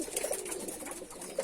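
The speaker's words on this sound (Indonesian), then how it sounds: "yang merawat itu adalah merpati jenis lokalan" Local pigeons cooing softly inside a breeding coop, with a few short coos coming in and out over a faint background and no speech.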